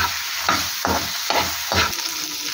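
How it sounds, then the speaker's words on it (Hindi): Mutton heart frying in oil in a pan, with a steady sizzle and four rhythmic stirring scrapes about half a second apart, close and fairly loud, no voices. "अब इसको हमने भूनना है जब तक इसका ऑयल जो है ऊपर ना आ जाए।"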